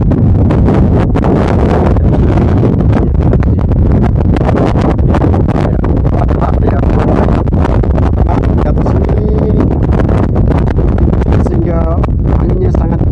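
Strong wind at Benteng Santo Lucas fort in Ternate, among mountains near the sea, batters the microphone with constant loud rumbling gusts and rustle. A voice talks underneath.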